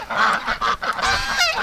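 An injured pet duck gives a short run of harsh, honking calls, several bursts in quick succession close by, with no voices.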